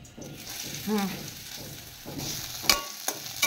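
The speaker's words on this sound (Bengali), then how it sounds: "এখন তেলের মধ্যে পেঁয়াজ ছেড়ে দিচ্ছি।" Onions drop into hot mustard oil in a heated wok and sizzle loudly and close, with stirring scrapes, a few clinks and a brief voice partway through.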